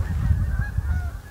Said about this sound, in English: There's a whole group of geese. Maybe I startled them. The whole flock is flying away.